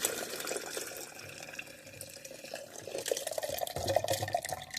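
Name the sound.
pouring sauce into a blender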